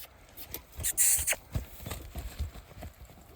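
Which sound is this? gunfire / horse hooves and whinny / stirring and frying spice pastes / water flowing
horse hooves and whinny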